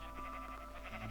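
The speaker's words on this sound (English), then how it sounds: "God, bloody sheep sound possessed." Sheep in the modded game Minecraft Feed The Beast bleating, a short wavering distorted bleat that sounds strange, faint over a steady low background hum.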